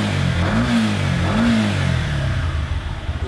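A scooter engine, a model with VVA valve timing, revs up toward about 7,000 RPM, its pitch rising and falling in two sweeps over a steady loud drone, close and continuous with no talk.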